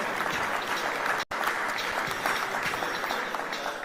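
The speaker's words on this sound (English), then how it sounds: "let's clap for him as he comes." Graduation ceremony audience applauding continuously as a graduate walks up, with an even, dense clapping texture broken by a brief dropout.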